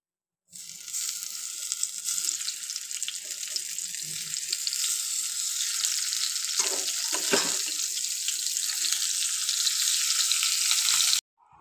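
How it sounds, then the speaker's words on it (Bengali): Salted, turmeric-coated fish frying in a pan, a steady close sizzle that runs without a break for about ten seconds, with small clinks partway through and no talk. "তো এখন এসে আবার মাছগুলো ভাজতে লাগলাম, আর মাছগুলোকে একটু বেশি করে কড়া করে ভাজবো"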